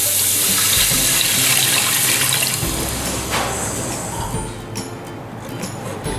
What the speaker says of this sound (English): Now we're going to add 3 cups of water.